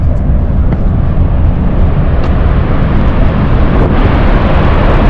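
Steady, loud roar from the active volcano crater at Mount Bromo, Indonesia, a dense jet-engine-like rumble that holds constant throughout, mixed with wind buffeting the microphone and no talk.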